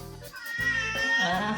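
A kitten meows in a few clear, rising calls close by, with a brief gap of quiet between the first and second cries.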